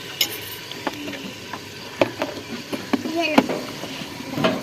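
Onions are tempered and fried in a pot before mustard greens go in. A soft frying hiss runs under scattered clinks and scrapes of stirring, with voices nearby.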